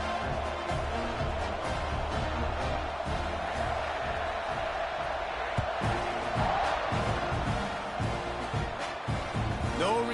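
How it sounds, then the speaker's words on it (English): A college football stadium crowd roars steadily after a scoring drive as the kickoff unit takes the field, a dense, continuous wall of cheering and shouting with scattered louder bursts, a commentator talking over it. "this crowd is feeling themselves after that last drive"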